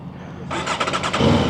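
A motorcycle engine cranks and fires up, catching with a loud rumbling burst close by.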